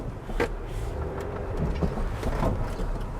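A Land Rover Discovery 4 crawls over a rutted muck heap, its engine a steady low rumble with a few thumps and creaks from the suspension and body as it rolls over the bumps.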